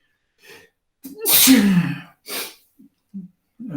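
One loud, sharp sneeze bursts out up close, preceded by a quick intake of breath and followed by a few short sniffs and breaths.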